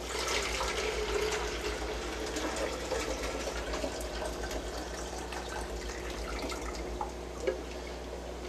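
Liquid is poured through a filter collection cup, a continuous close splashing and trickling stream that runs steadily for several seconds, with no voices.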